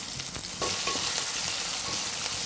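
Garlic, onions, curry leaves and green chilies frying in hot oil, a loud, continuous sizzle with stirring scrapes close to the pan.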